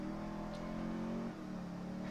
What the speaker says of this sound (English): full throttle dig from a stop